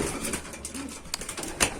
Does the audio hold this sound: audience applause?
no